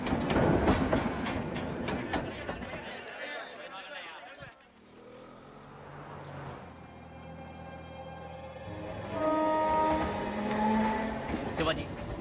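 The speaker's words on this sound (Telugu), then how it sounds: "రైలు వచ్చే టైం అయింది." A train pulls in and runs along the rails in a Telugu film scene, with a loud rumbling clatter and sustained whistle-like tones in the middle. Voices speak over the noise.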